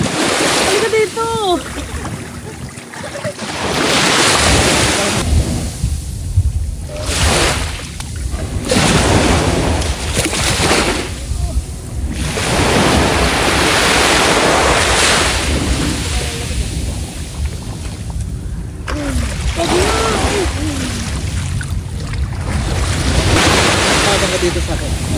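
Sea waves surge and wash up on a beach, with repeated swells of surf and splashing close by, mixed with wind buffeting and people chatting over the water.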